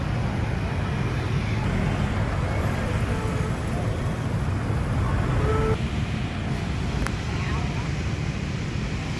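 Busy street traffic in Saigon, Vietnam, a continuous wash of engines and tyre noise rolling past at close range, steady and unbroken with no clear voices.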